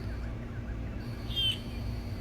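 A Vogelkop bird calling, a single short bright call near the middle, faint over a steady low hum.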